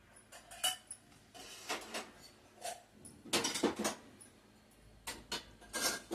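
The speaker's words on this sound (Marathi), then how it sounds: "आता रॅकमध्ये लावून घेते भांडे." Freshly washed steel dishes and utensils placed one by one into a rack, with scattered metallic clinks and clatters in irregular bursts, close and fairly loud, no talking.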